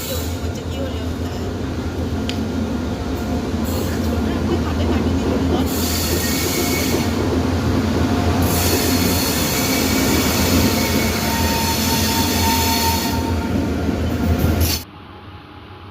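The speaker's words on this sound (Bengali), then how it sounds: "ট্রেন এসে গেল।" A train rumbles into a station at Jalpaiguri, wheels clattering and squealing continuously and loudly close by, with people talking over it before the noise cuts off abruptly.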